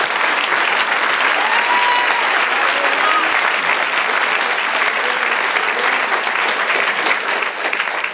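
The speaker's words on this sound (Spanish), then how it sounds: "Denle un aplauso, Señor." A church congregation applauds steadily and loudly throughout, a dense wash of clapping from a large crowd that holds its level from start to finish before easing slightly at the very end.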